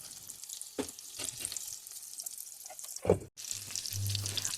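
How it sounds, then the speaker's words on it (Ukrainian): Onion fritters frying in a pan over low heat, a soft, quiet crackle and sizzle with a few louder pops and taps, a brief clatter, and a low hum near the end, no talking. "і на ось такому маленькому вогні смажимо до рум'яної кірочки."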